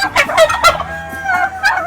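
Turkeys on a backyard free-range farm gobbling in quick, loud bursts close by, two or three rattling calls overlapping in under two seconds.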